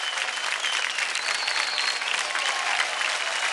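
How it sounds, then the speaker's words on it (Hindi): Studio audience applause on a televised dance competition show in India: a continuous, dense clapping from a large crowd, steady and bright throughout with no speech over it. "जोरदार तालियां हो जाए।"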